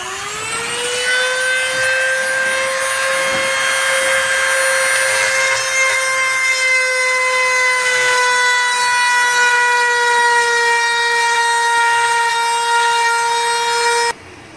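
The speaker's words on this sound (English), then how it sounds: "the Dremel with the grout removal bit" A Dremel rotary tool fitted with a grout removal bit grinds out grout between tiles, a loud, steady high-pitched whine that holds unbroken for about fourteen seconds before cutting off abruptly.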